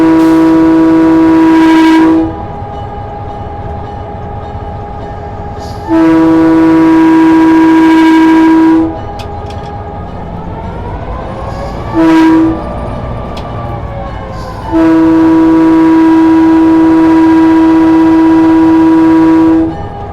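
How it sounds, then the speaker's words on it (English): A locomotive horn on a coastal railroad cab ride toward Wheeler sounds in long, loud, steady blasts separated by pauses, with a brief short toot between them, over the low rumble of the idling engine. "2 short horn blows, brakes are released, and we are off to the small town of Wheeler on Mom's first ever locomotive"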